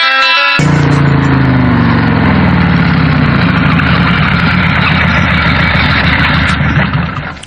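A motorcycle engine starts after a brief moment of talk and settles into a loud, steady idle up close, running continuously and alone before easing slightly at the end.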